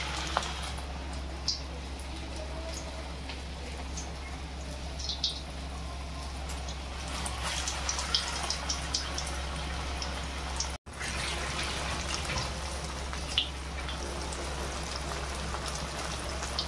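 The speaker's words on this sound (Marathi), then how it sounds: "इकडे तेल गरम झालं आहे। असतीच आपल्याला ह्या तेलात तुकडी तळायला टाकून द्यायची।" River fish pieces coated in rava and rice flour fry in hot oil, giving a steady, dense crackling sizzle with scattered pops and a low background hum throughout, briefly cutting out once partway.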